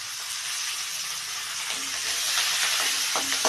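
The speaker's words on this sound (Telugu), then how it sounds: "కొంచెం కొత్తిమీర వేస్తున్నా పోపులో" Oil tempering sizzles with coriander leaves and ginger added, a continuous close hiss with faint crackles and small clicks building slightly toward the end.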